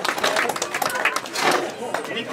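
Applause and scattered clapping from a crowd at a patronal village fiesta, dense and continuous with voices chattering over it throughout.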